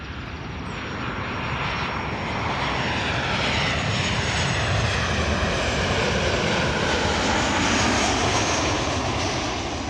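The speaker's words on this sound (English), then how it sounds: "This is KLM Flight 1930, arrival from Geneva," A KLM Boeing 737-900 arriving from Geneva sweeps in close with a loud, sustained jet engine roar, rising in the first seconds and holding strong, with a shifting whine laced through the rumble.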